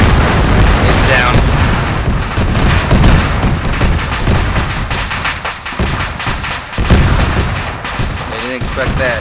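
Dense rocket blasts and gunfire roar through a video game battle, loud overlapping booms and rumbling bursts filling the whole stretch, with voices talking over the action.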